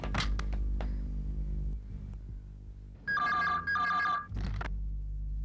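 An electronic telephone ring sounds in two short warbling bursts, fairly loud and close, after some clicks and handling noise, from a 1994 Indian TV detective drama.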